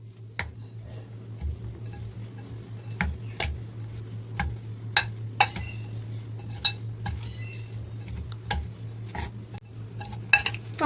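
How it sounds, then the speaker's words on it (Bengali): Spoon clinking and scraping against a bowl while protein ball ingredients, including protein powder and cardamom powder, are mixed together; sharp intermittent taps over a steady low hum, fairly close. "এবার আমি দেবো প্রোটিন পাউডার 2 চামচ, এবার আমি সবকটাকে মিশিয়ে নেব।"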